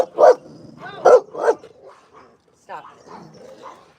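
Dogs play-fighting, with three loud, sharp barks in quick succession followed by softer yips, grumbles and whimpers nearby.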